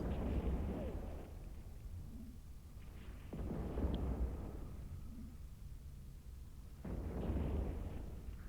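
Missiles firing and exploding in EVE Online: three deep, rumbling blasts at steady intervals, each swelling into a long low roar that slowly fades, moderately loud and with no talk.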